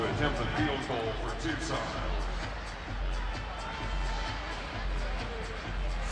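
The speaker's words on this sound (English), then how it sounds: "The crowd is on its feet." Stadium crowd at an Arena Football League game between the Tucson Sugar Skulls and Arizona Rattlers, a steady loud roar of many voices just before a tied late-game 45-yard field goal attempt.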